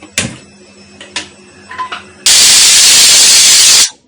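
A pressure cooker cooking lentils with a little oil for sambar lets out one loud, sustained burst of hissing steam for about a second and a half, after a few faint kitchen clicks.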